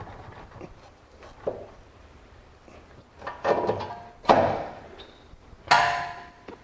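Front right axle being seated on a 2014 Chrysler Town & Country, a few sharp metallic knocks and thuds spaced seconds apart, close and growing louder, over quiet workshop background.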